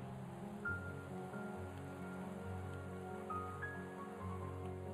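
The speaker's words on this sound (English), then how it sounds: "Are you protected from the rain, though?" Rain falls in the Minecraft video game as a faint, steady hiss. Soft sustained tones sit underneath it.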